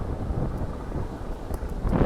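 Seaside wind rumbles and buffets the microphone in a steady low roar, fairly loud and continuous over the whole brief moment, with no clear voices.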